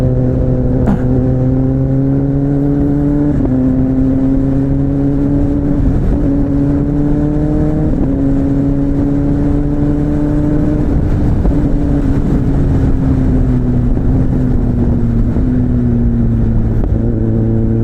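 A 2023 Kawasaki Ninja ZX-10RR motorcycle on a long ride gives a loud, close engine drone that climbs steadily in pitch through each gear and drops sharply at every shift, with wind noise underneath and no talking.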